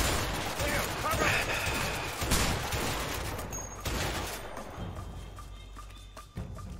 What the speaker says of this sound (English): They take a lot of shots with this, the old shotgun.